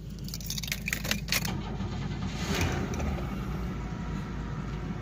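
A 1996 Oldsmobile Cutlass Ciera SL, nearly out of fuel, cold starts after keys jangle near the ignition, settling into a steady low idle heard from inside the car.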